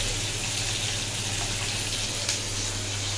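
Water runs and splashes steadily into a cooking pot of curry with fried lentil fritters, a continuous close pouring wash with no talk.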